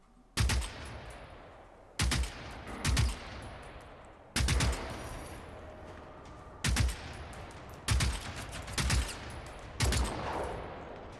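Rifle gunfire in the video game Generation Zero: six loud, sharp shots spaced about one to two seconds apart, some doubled, each with a decaying echo tail, no voices.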